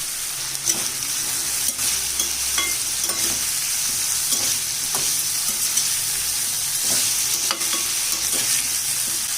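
Carrot and drumstick pieces sauté in a pan for a mango and drumstick sambar, giving a steady close sizzle broken by scattered scraping stir clicks.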